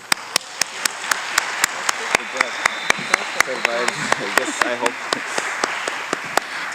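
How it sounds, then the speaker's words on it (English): Applause from an audience at a Tigrayan community event in Dallas, with steady clapping and sharp individual claps punctuating it throughout; a voice speaks over the middle part. "Please give them a round of applause"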